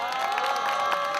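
Audience applause at an international peace rally in Gwangju calling for a Korean peninsula peace treaty, a short burst of crowd clapping mixed with cheering and a voice over it.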